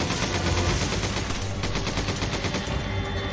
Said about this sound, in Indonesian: Tembakin dulu aja.